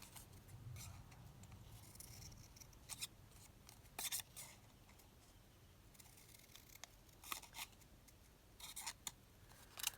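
Scissors cutting paper bunting flags at a craft table, a few quiet, scattered snips and rustles over a soft, steady background hiss, close but faint, with no voices.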